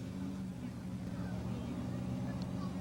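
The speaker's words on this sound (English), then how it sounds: "the Spencerport Red Onions revving up their truck and ready to go." A tractor-pulling truck from the Spencerport Red Onions team revs its engine at a 1982 pulling event, a continuous low rumbling drone heard at a distance beneath a commentator's voice.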